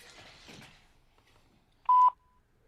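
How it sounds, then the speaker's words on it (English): A single loud electronic beep tone sounds for about a quarter second near the end, following a stretch of faint, quiet background noise. "Oh, there's your beep."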